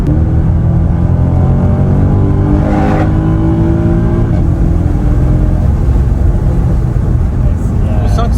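A Mercedes C63 AMG W204 accelerating on the autobahn, its engine a loud, continuous low roar with rising pitch through long gears, heard from inside the car with constant road and wind noise.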